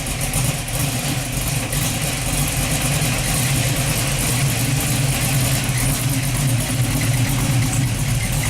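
A Buick Regal engine, its oil pressure problem and oil leak just repaired, idles while warming up, giving a steady, even drone close by that runs throughout without any talking.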